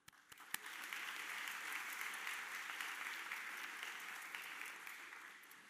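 Sustained applause from a crowd at a high school ceremony, steady and even for the whole stretch, with a few sharper claps standing out at the start.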